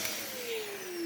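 A vacuum cleaner runs with its hose removed, giving a short, steady high-pitched motor whine with a slowly falling tone.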